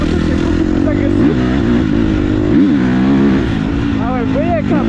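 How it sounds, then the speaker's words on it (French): A KTM motorcycle accelerates hard, its engine note rising and sweeping up through several quick revs, loud and close, with a voice speaking over the roar. "on va tester une petite accélération et pour la moto qui est beaucoup plus agressive"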